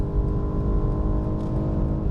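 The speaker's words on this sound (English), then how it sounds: "You're driving in a straight line, sometimes at high speeds like right now." A BMW 1 Series at high speed gives off a constant loud interior drone of engine and road noise, with no talking.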